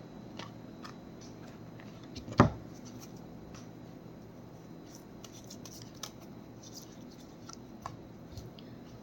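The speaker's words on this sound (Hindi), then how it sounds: "और अब हम कुछ एक एंजल कार्ड ले लेंगे आप लोगों के लिए।" Angel cards are shuffled and drawn by hand in a quiet room, giving soft rubbing and light clicking with one sharp snap near the start and scattered small ticks after it.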